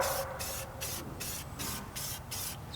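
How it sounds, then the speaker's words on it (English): A spray paint can is sprayed in short, rhythmic hissing bursts close by, roughly six or seven quick sprays on the wheel spacers of a Kubota L6060 tractor, quiet and with no voices. "Spray paint. Our best friend."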